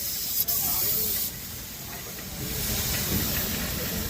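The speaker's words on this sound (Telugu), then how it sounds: "మొత్తం స్ప్రే పెయింట్" Spray gun hissing steadily as a painter sprays gold border paint on Ashok Leyland BS6 truck bodies in a body-building workshop in Vijayawada Autonagar, a continuous broad hiss that dips briefly and then resumes.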